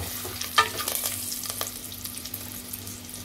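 Two dried red chillies hit hot tempering oil that already holds curry leaves, giving a sudden close sizzle that settles into steady frying crackle, with a low hum underneath.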